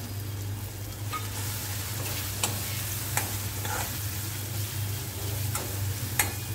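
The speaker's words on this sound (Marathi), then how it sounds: "थोडासा लसूण घेतला 2 पाकळ्या, तो चांगला परतून घेऊया।" Crushed garlic and turmeric sauté in a pan with a continuous moderate hiss, broken by a handful of sharp scraping strokes as a spoon stirs, over a low steady hum.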